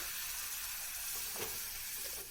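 Ground Malvani masala paste with turmeric and coriander powder hits hot oil in a pan for Konkani-style prawns, giving a steady, fairly quiet hiss and sizzle with a few brief crackles and no talking.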